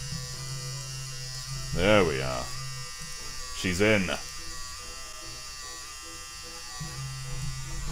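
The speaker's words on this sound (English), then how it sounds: "we're gonna hold down the feed button while we're doing this" A Game Boy Printer's small motor whirs steadily as it feeds in a roll of thermal paper, a continuous close buzz running under two short bursts of talk.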